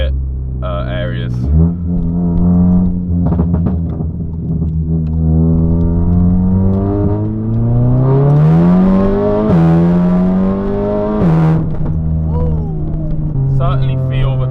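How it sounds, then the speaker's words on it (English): Stage 3 Volkswagen Golf R tuned past 500 bhp, driven through quiet streets as it revs and downshifts, the exhaust note rising and falling in sweeping pulls with a few sharp pops near the end, loud and close. "Let's get some downshifts. Let's provoke those pops and bangs."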